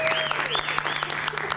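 A short burst of crowd applause with whistling and cheering at a stand-up comedy show, steady clapping throughout.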